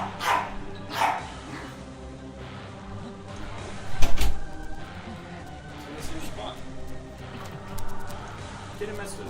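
A dog barks indoors in a house, a few sharp barks spaced across the clip, one louder than the rest, over background room noise.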